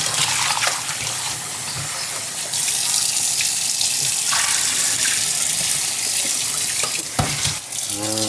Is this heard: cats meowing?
no